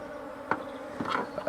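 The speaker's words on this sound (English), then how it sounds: "the bees swarming around me" A swarm of bees buzzes close by during a honey harvest at a Rongai beekeeping site, a wavering buzz with a few individual bees passing near and away.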